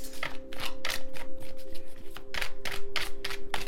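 Tarot cards are shuffled close up in quick, repeated riffling bursts with steady rhythm, crisp papery flutters over a faint constant hum, no voices.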